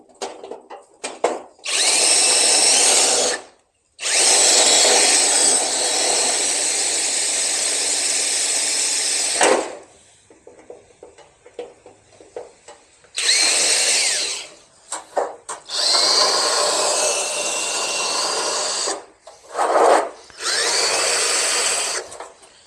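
A power drill in a race shop runs in several long, loud, whining bursts of a few seconds each, with short pauses between them. The tone is high and gritty, close by, and there are no voices.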